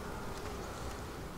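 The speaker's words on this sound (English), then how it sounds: "I've got a bee that is determined to sting me." A honeybee buzzes persistently close to a beekeeper working at a Flow Hive during super installation, a steady droning hum filling the whole moment with no speech.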